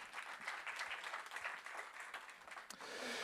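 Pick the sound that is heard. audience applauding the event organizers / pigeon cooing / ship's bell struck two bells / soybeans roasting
audience applauding the event organizers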